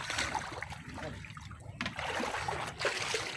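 Fast-flowing river water rushes steadily and close by in shallow water where people wade and fish, a continuous broadband wash with small splashes throughout.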